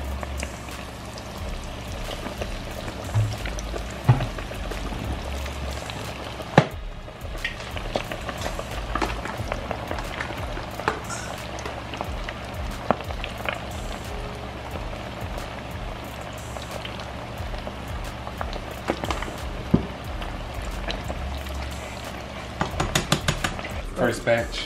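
Seafood deep-fries in hot oil as a constant soft bubbling hiss, broken by frequent clinks of utensils and pans and occasional nearby knocks.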